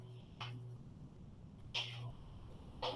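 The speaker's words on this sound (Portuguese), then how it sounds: "Só um pouquinho que a minha gata quer sair," A house cat wanting to be let out, meowing a few times at intervals, fairly faint and set against a steady background hum, with no talk over it.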